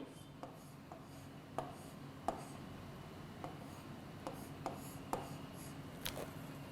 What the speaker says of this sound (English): The structure is I am drawing in front of you.